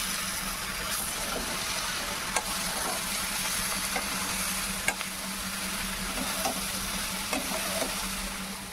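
Crushed garlic for a meat-style curry sizzles and fries steadily in a pan, a constant close hiss broken by several sharp scrapes and taps of a spoon against the pan.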